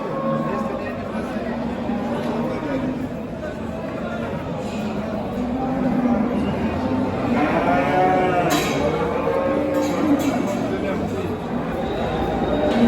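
Holstein and Simmental cattle at a crowded livestock market, several cows mooing loudly at close range over a steady background of people talking.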